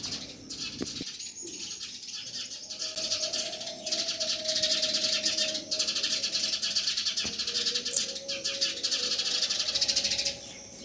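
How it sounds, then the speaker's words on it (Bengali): Busy, continuous chirping of sparrows on a calm morning, a dense twittering chorus with a few faint tonal whistles beneath, fairly close and steady throughout. "তবে এই সুন্দর শান্ত সকালে ওদের এই কিচিরমিচির আওয়াজটা শুনতে বেশ ভালো লাগছে"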